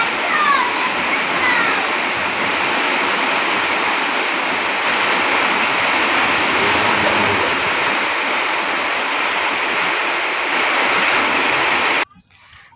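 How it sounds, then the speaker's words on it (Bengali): Rain and wind arrive outside a window, a loud, dense, unbroken rushing hiss that holds steady for about twelve seconds and then cuts off abruptly. "দেখো বৃষ্টি চলেই এলো।"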